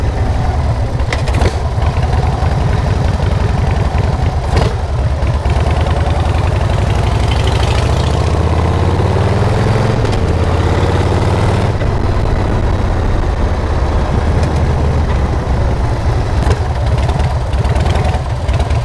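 A Harley-Davidson Sportster chopper built by a Bandung workshop sits idling close by, a loud, steady, low rumbling engine with an uneven pulsing beat throughout, alone with no voices.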